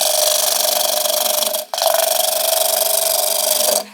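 A bowl gouge cuts into timber on a wood lathe, a loud steady rasping hiss that breaks off briefly partway, then resumes and stops near the end.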